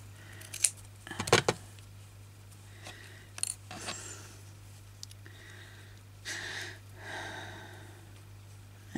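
Scissors cut a piece off a handmade paper craft for a junk journal, giving a few sharp snips near the start and fainter trimming sounds after, with quiet rustling and no talk.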